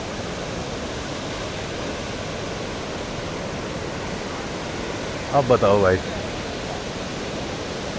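A large waterfall near Sela Pass, where the river plunges down, roars as a broad, steady, loud rush throughout, with someone briefly speaking over it partway through.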